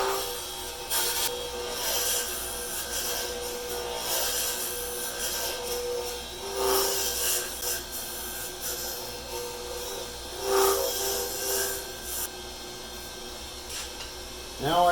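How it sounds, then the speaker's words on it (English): A 3/4 inch roughing gouge cuts a wooden pen blank spinning on a lathe, a continuous rough scraping whir over motor hum with a few louder catches, close and steady. "As usual, I start out with my 3/4 inch roughing gouge."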